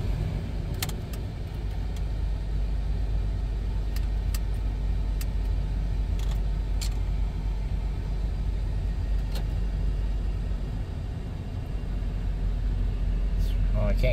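A 1997 Dodge Grand Caravan SE engine idles after sitting abandoned for over four years, a steady low rumble heard from inside the cabin with faint ticks and rattles over the whole stretch.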